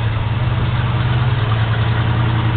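A 1971 Plymouth Roadrunner engine runs at a steady low rumble close by while the car is backed up, a continuous deep idle throughout.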